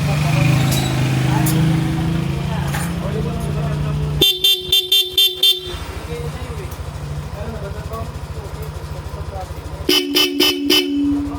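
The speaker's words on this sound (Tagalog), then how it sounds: "At tinetest na namin yung busina." A Bosch Europa horn fitted to a Yamaha Lexi 155 scooter being tested: two bursts of rapid, loud honks, each about five quick blasts, standing out above ongoing background noise and a low hum.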